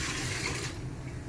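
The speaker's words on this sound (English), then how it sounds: "to drain until all the water is out." Water drains from a front-loading washing machine during maintenance, a steady close rushing and gurgling flow that softens a little partway through, with no voices.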